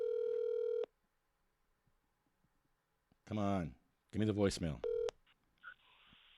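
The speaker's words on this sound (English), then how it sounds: "I'm going to merge the calls as soon as he picks up" Telephone keypad tones during a call to reach voicemail: a steady dialing tone at the start, then a short tone burst near the end, with a person talking between them.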